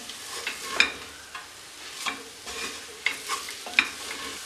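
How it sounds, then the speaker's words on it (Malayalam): Spice masala for Kerala beef curry being stirred and sautéed in a pan, with repeated scraping strokes of a spoon over a soft, continuous sizzle, close and without talk. "ഇനി ഇതെല്ലാം ഈ മസാലയെല്ലാം നന്നായിട്ട് മൂപ്പിച്ച് നന്നായിട്ടൊന്ന് വഴറ്റി കൊടുക്കണം"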